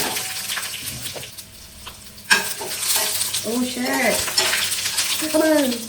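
Mustard seeds, curry leaves, dried chilli and garlic hit hot oil with a sudden loud crackle that becomes a busy sizzle. Spoon clinks and stirring run through it, and a voice talks faintly over the pan.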